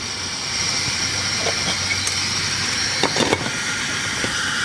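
An MSR Windburner camping stove burner roars steadily while boiling two cups of water in still air, a loud constant hiss with a few small clicks and clatters near the end.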